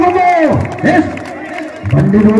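Crowd at a tug of war contest cheering and shouting together in loud bursts, with an announcer's voice heard over and between the roars.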